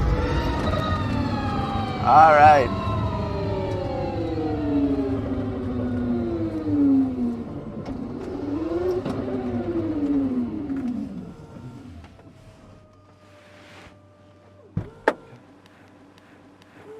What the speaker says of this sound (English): That's the actual mechanical sound of having electric motors around the car.